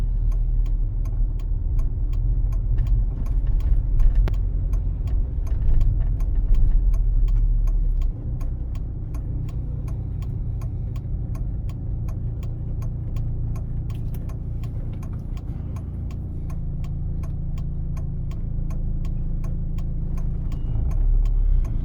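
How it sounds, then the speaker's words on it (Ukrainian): Inside a driving-school car on an exam route in Korosten, Ukraine, the left turn indicator ticks in a steady, faint rhythm beneath a constant low engine and road hum. "Завчасно вмикаємо лівий покажчик повороту"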